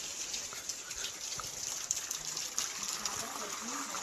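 Steady light rain falls outside in rural Konkan, a soft continuous patter and hiss with faint drips close by, no talk over it.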